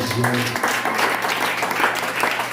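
A church congregation at a Good Friday service applauds, a steady wash of clapping heard alongside voices, with a brief low sung or spoken tone at the start.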